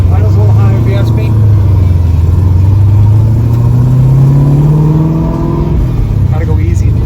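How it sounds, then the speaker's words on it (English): A Chevrolet Camaro's 525 hp LS3 V8 with an aggressive cam runs at a slightly high idle, a steady deep close rumble with rising and falling revs that swell and ease, while voices talk over it throughout. "That's that 525 horsepower LS3. Got a nice cam, nice rumble to her."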